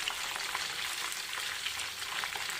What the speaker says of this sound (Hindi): चिकन लॉलीपॉप के सेकंड स्टेप भी अच्छे से फ्राई हो चुका है